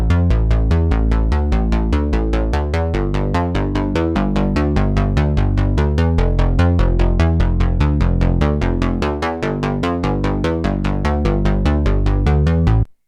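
A retro PWM synth bass patch built in Serum, inspired by a hit song, playing a fast, steady run of punchy eighth-note bass notes for about twelve seconds before cutting off abruptly.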